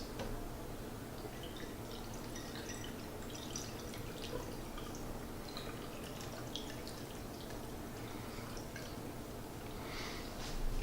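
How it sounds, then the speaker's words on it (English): Pickling liquid poured into a jar over beets, a faint steady trickle and drip of liquid filling the container for about ten seconds against a quiet kitchen background. "we're just going to go ahead and pour this in to cover the beets"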